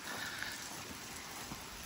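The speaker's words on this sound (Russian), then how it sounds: "Сыпал дождь у нас." Steady rain falling outdoors over a rural homestead yard, a continuous soft hiss of drops on surfaces that holds an even, moderately quiet level with no voices.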